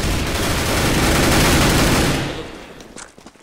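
Dense burst of rapid gunfire in the video game CS:GO, loud and continuous for about two seconds before cutting off into quieter scattered sounds, with a brief spoken word near the end.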